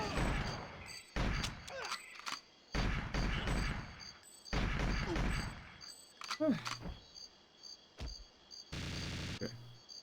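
Bursts of gunfire from GoldenEye 007 on the Nintendo 64, several separate volleys and single shots spread across the stretch with gaps between them, with someone talking at points.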